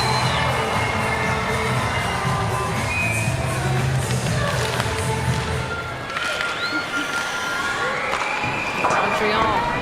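Hockey arena crowd cheering during a PWHL game between Montreal and Ottawa, a dense roar of voices and whoops filling the space, with a commentator's voice audible over the noise.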